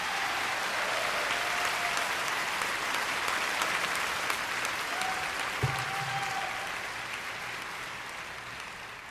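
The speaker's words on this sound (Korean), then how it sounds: "하나님 앞에 박수 한번 해올리지요" Sustained applause from a large crowd at a religious assembly in New York, steady and dense clapping throughout that tapers slightly toward the end, with no talking over it.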